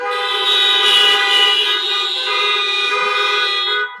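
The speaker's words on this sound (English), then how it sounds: "Honk if you agree with me." A steady, loud car horn blares continuously for about four seconds at a community protest, a single sustained tone with no voices.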